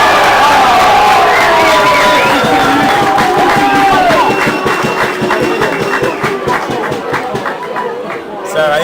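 Spectators at a 2023 European canoe polo championship match cheer and shout loudly, a dense, continuous crowd roar with mixed voices that eases slightly toward the end.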